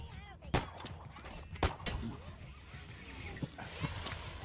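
Sniper rifle fire in Halo Infinite, with two sharp, loud shots about a second apart and a few fainter reports later, over game ambience and a voice talking.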